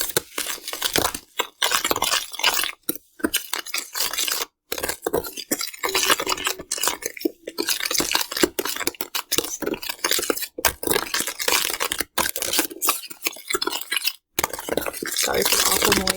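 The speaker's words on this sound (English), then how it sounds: "So we're going to try mixing it a little bit more" A mixture is stirred hard in a bowl with a utensil, giving continuous loud scraping and clinking, rhythmic and close, with only brief pauses.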